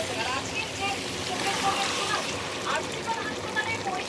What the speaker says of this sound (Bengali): এবার আমি দিয়ে দেবো একটু গরম জল।